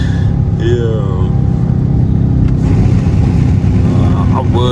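A Dodge Charger Scat Pack engine revs in a loud, sustained roar while the car slides through corners, heavy wind buffeting over it and brief voices breaking in.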